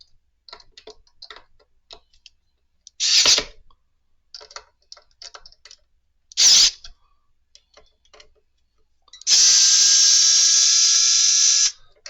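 Screws being tightened into guitar locking tuners, with small close ticks and clicks from a screwdriver, two short whirring bursts and a longer whirring buzz of a powered driver near the end, no talk.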